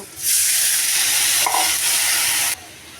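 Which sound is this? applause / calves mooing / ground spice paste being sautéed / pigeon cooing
ground spice paste being sautéed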